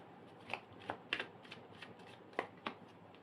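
Tarot cards being shuffled in a series of crisp riffling bursts, about seven separate flicks and snaps spaced irregularly against a quiet room background, close and clear with no talking.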